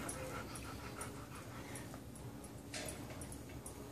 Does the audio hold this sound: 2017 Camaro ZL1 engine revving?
no